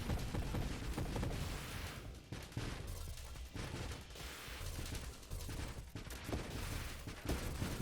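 Steady, dense bursts of enemy gunfire in the space shooter game Nova Drift, a continuous loud barrage of overlapping shots with booms running through the whole stretch.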